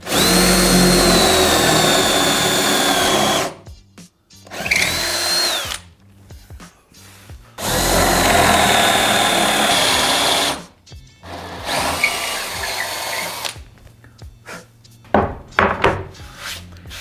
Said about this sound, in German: Das obere Brett wird ja durchgebohrt.